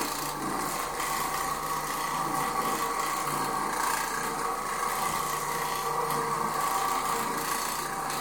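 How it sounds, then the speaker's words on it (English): Oreck Orbiter running a carpet bonnet over frieze carpet in a bedroom: a steady, loud, continuous rubbing whir of the motor and brushing pad, unbroken throughout. "Using an Oreck Orbiter and an Oreck carpet bonnet, which is sold separately"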